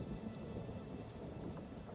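Steady rainfall in The Elder Scrolls Online, a soft continuous hiss of falling rain with a low rumble beneath, quiet and unbroken, with no voices.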